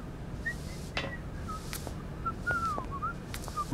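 A character whistles in the Syberia video game: short, thin, pitched whistled notes, some sliding up or down, come one after another over quiet ambient background with a few soft knocks.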